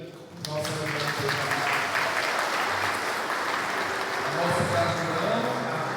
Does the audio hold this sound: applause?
yes